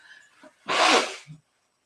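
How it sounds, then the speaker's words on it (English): One close, loud human sneeze with a short breathy intake before it, then silence. "I sneeze all the time"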